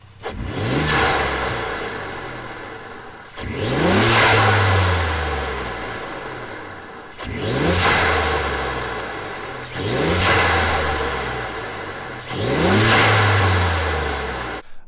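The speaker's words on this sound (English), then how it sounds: "A lot of turbo noises, a lot of induction noise as well." Repeated bursts of revving engine from a 2015 Ford F-150 pickup, with a whooshing, whistling turbo and induction roar, rising and falling about every three seconds, loud and close.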